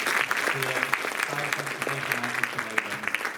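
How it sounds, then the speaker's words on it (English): An audience applauds warmly after a song performance at a Mahila Day gathering, a steady wash of many hands clapping throughout, with a faint voice and tonal hum running underneath. "A round of applause again."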